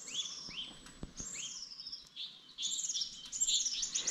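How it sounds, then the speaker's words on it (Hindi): Birds chirp and trill by a lake at Sattal in Uttarakhand, with quick bright calls in short bursts against quiet open-air stillness and no talk. "यहाँ पे आप चिड़ियों की आवाज़ सुन सकते हैं।"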